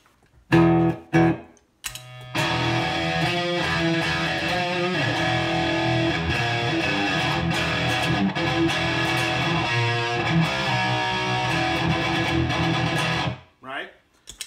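A distorted electric guitar in standard tuning plays a sustained, chugging riff, loud and close, after a couple of short opening strums, then rings out and stops.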